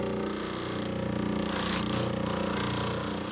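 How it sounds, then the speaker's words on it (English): Vintage scissors pressed against a spinning buffing wheel for polishing: a loud, steady motor drone with a grinding, scraping texture that swells briefly in the middle, continuous and close. "let's try polishing these up a little bit on the buffing wheel"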